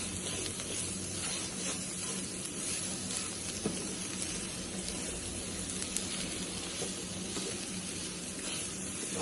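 Capsicum and other vegetables fry in a pan for shalgam sabzi, with a close, continuous sizzle and hiss and a few faint stirring clicks.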